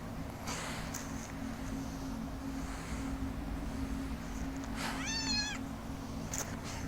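A cat in the video game Mass Effect gives a single clear, rising meow near the end, over a steady low hum of ambient game background noise.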